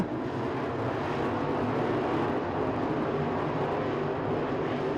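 Race car engines drone in a steady, somewhat distant roar as the field circles the track during a heat race at the 2021 Winter Nationals night event.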